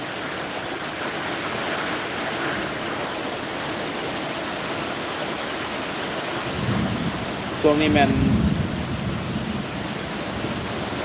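Heavy rain from a storm in Vientiane, Laos, hisses as a steady dense wash, with someone speaking briefly near the end.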